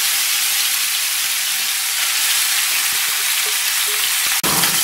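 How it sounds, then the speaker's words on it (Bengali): Small mola fish frying in oil, a dense, loud, steady sizzling hiss with a faint clink near the end and no talk. "মলা মাছটাকে এখন ভেজে নেওয়া হচ্ছে।"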